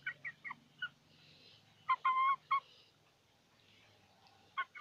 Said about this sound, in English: These are the chicken that they just grow.